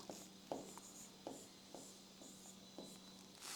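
A word being written by hand during a reasoning lesson: quick scratchy strokes in short bursts, close and quiet, with steady background hum and no talking.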